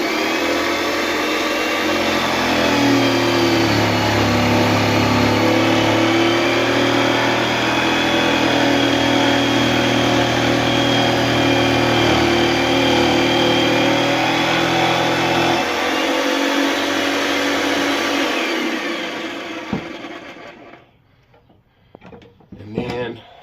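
A jigsaw rigged upside down as a table saw cuts through wood for a planter table, a loud steady motor whine with sawing texture for about twenty seconds before it winds down and stops, followed by a few faint knocks.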